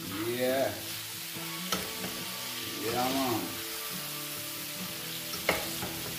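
Chicken breast stir-fried in a pan, a moderate sizzle with occasional clanks and scrapes of stirring, with a voice talking over it at times.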